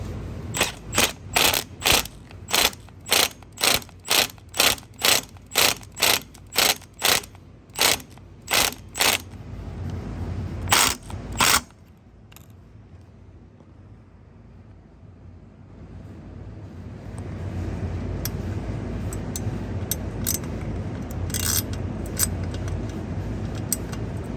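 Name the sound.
impact wrench on tight bolts, motorcycle skid plate install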